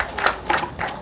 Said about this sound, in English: Let us clap for you.